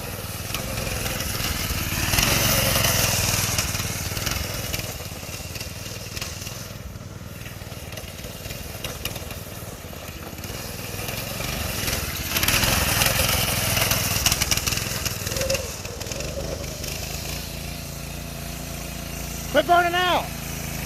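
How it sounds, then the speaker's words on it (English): A go kart with a Predator 212 engine does burnouts in a yard, its small engine roaring and revving in long surges with a scrubbing, gritty edge, while people talk over it. "Quit burning out. You're tearing up the yard."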